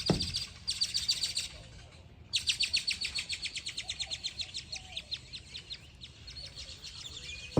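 Loud, rapid bird chirping in fast repeated bursts close by, continuing almost without pause, with a brief break partway through.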